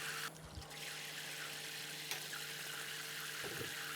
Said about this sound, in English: we're now getting some water through the Gasmate Watertech